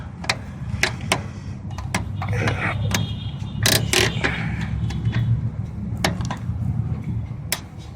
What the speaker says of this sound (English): what's left for me to bring out this radiator is to take the lower hose clamp out